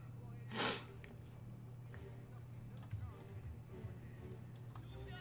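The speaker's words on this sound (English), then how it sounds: "Uh-oh, I'm about to sneeze." One short, sharp sneeze bursts out near the start, close and fairly loud, followed by quiet room noise and light clicking.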